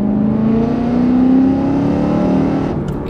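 Loud, steady rev from a BMW E92 M3 fitted with a titanium exhaust, a strong rising engine note held close up for about three seconds before easing off at the end.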